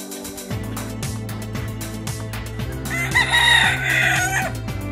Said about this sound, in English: That goes to show you that roosters do not just crow at night.